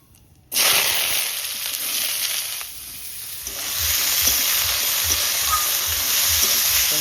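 Chopped vegetables hit hot mustard oil tempered with dried chilli and whole cumin, bursting into a loud sudden sizzle that settles into steady frying hiss with occasional stirring, after a quiet start.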